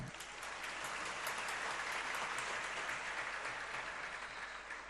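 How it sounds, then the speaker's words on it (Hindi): A large audience claps steadily and continuously throughout a religious discourse, a dense, even wash of applause with no speech over it. "आप लोगों की तालियों के द्वारा हम समझ लेते हैं कि आपको ये बात समझ में आ गई।"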